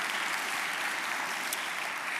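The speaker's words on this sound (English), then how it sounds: "So a big round of applause for First Baptist Church and all the wonderful volunteers here." Steady applause from an audience at an evening book event with authors, held at a church hall, a dense even wash of clapping throughout with no talk over it.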